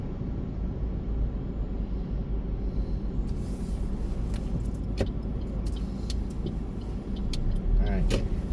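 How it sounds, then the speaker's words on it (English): Busy road traffic on a Honolulu street heard from inside a rideshare car, with a steady low rumble of passing vehicles including big vehicles, plus a few small clicks and rattles near the end. "Busy traffic area."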